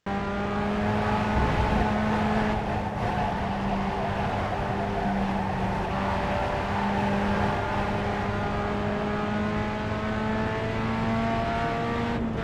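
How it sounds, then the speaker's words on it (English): A Pontiac Solstice race car in the iRacing sim at the Charlotte Roval, its engine droning steadily at high revs with gradual pitch shifts through corners, loud and continuous with no talk. "you should be able to control the car just with the throttle"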